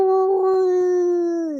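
A beagle lets out one long, clear, sustained howl, loud and close, holding a steady pitch before sliding down at the end.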